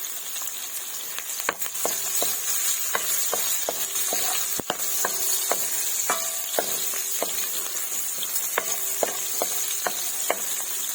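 Sliced onions sautéing in a pan of fish drippings give a steady, close sizzle, with repeated sharp scrapes and knocks of a utensil stirring them throughout.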